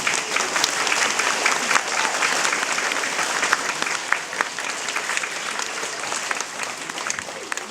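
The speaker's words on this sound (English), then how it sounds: "Can you please give our award winners a big clap?" A school assembly audience applauds award winners with steady, sustained clapping from many hands that fills the hall, with faint voices mixed in.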